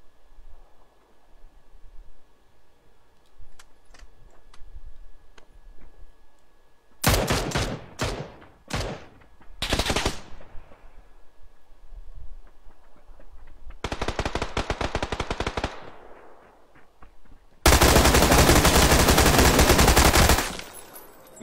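Gunfire in PUBG, starting with scattered single shots, then bursts of loud automatic fire and a long sustained volley near the end, with no one speaking.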